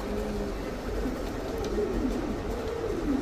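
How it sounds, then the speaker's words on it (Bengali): A pigeon coos in soft, low, repeated murmurs close by against a steady background hum. "অনেক সুন্দর একটা কবুতর মাশাআল্লাহ"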